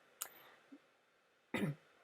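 A person with a cold clears their throat and coughs, one short sharp burst followed by a louder rasping cough a moment later, close and otherwise quiet.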